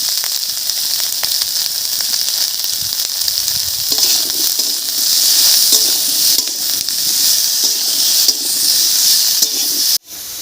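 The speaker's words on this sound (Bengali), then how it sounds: "লবণ আর হলুদ দিয়ে ফুলকপি আর আলু একটু নাড়িয়ে নিয়েছি" Cauliflower and potatoes with salt and turmeric are stirred in a hot pan, with a loud continuous sizzle and hiss overlaid by scraping and clattering of the spoon, ending in an abrupt knock.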